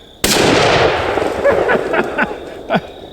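A Remington 700 ADL bolt-action rifle fires at a plastic 2-liter bottle up close, one loud sharp report with a ringing tail, followed by several fainter pops and knocks.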